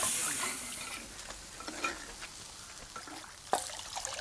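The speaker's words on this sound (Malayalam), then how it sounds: "നമ്മൾ നാളികേരം വറുത്ത് അരച്ചത്." Grated coconut roasting in a pan at a Kerala village home kitchen, stirred with soft, quiet scraping strokes and a faint sizzle, with one sharper scrape near the end.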